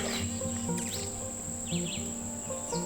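A red-eyed vireo sings short, clear, rising and falling phrases along a wooded trail, mid-distance, over steady insect buzzing and a constant high-pitched tone.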